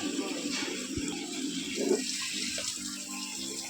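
Freshly cut fish, prawns among them, is rinsed under running tap water in a home kitchen, giving a steady, fairly quiet splashing stream with faint background voices.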